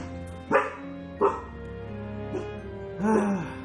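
A dog in the room barks three times, short and fairly close, with quiet gaps between the barks and a longer, whiny final bark.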